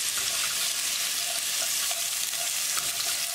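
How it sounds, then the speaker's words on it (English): Garlic and ginger frying in hot oil with cumin in a pan for a potato curry, a steady broadband sizzle with small crackles and occasional stirring clicks, close and continuous with no talking. "Now add garlic and ginger."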